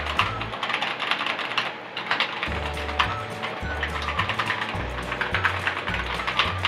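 Rapid typing on a SIGNO KB-738 Infesta mechanical keyboard with linear red switches and keycaps fitted, giving a steady close-up patter of clacking keystrokes with a low thunk under them.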